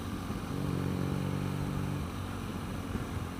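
A 2016 BMW R NineT motorcycle fitted with an Akrapovic exhaust gives a steady, close, droning engine note with a strong low throb that holds evenly for the whole stretch, with no voices.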